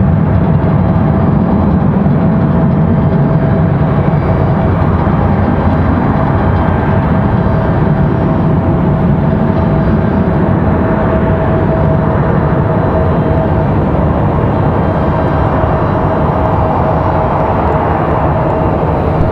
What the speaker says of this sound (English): Delta 2496, contact approach. It's going to be an A319.